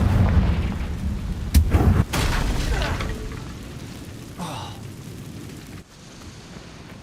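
Confringo blasting spell in the Hogwarts Legacy game, a heavy booming explosion with sharp cracks near the start followed by a rumbling tail and lighter debris sounds, all under dense game ambience.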